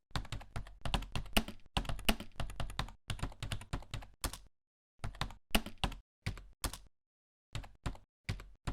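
Bursts of rapid keystrokes on a computer keyboard as text is typed into a file on a Linux system, close and clear, with short pauses between runs of typing.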